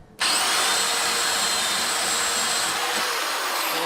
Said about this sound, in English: just take your drill, 3/8 inch bit